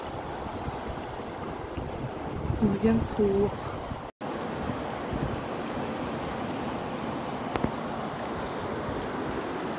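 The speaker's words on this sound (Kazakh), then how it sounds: "Секундына 45 куб су ағып жатыр." The fast, cold Sairam Su river, flowing at 45 cubic metres per second, gives a steady broadband rushing roar throughout, with wind buffeting the microphone and a brief spoken remark over the water.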